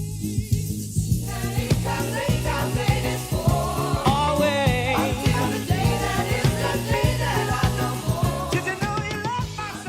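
Dense disco music comes through a DJ sound system with its tweeter arrays isolated and pushed loud, giving a bright, steady and continuous mix of shimmering highs over a sustained low drone that never lets up.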